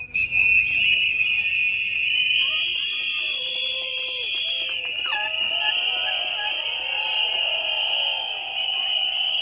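A crowd whistles together in memory of the dead at an immigrant rights gathering outside the White House, a sustained, dense chorus of shrill whistles holding steadily for the whole stretch with scattered shorter tones mixed in.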